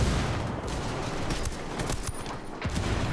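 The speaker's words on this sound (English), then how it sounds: "Oh shit, they got a minigun." Enemy minigun fire in the video game Ghost Recon Wildlands, a dense, continuous rattle of rapid shots with sharper bursts scattered through it, loud and sustained with no speech.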